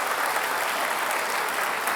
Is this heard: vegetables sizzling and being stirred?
no